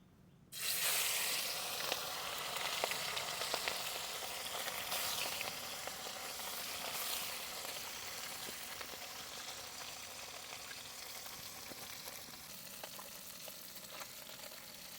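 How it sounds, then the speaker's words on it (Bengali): River fish fry in hot oil in a pan, starting abruptly with a loud, steady sizzle that crackles and hisses continuously, with occasional sharper pops and the light scrape of stirring. "এবার আমি মাছগুলোকে ভেজে নেব।"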